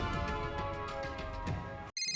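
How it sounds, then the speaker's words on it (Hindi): A phone ringtone plays alone as a steady melodic tone pattern that continues throughout, cuts briefly near the end, then resumes. "सोनू का फोन"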